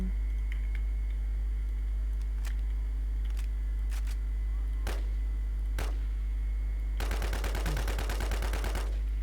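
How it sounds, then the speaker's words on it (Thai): Rapid burst of gunfire from a firearm in the survival shooter WarZ, preceded by a few isolated sharp shots over a steady low hum; the closing burst is dense and loud. "ขอยิงหน่อยละกัน"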